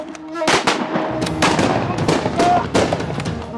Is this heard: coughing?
no